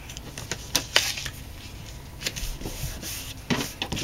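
Paper being folded over to form an adhesive pocket on a scrapbook mini album page, heard as a few soft close crinkles and light rubbing taps, with quiet handling noise between them and no talking.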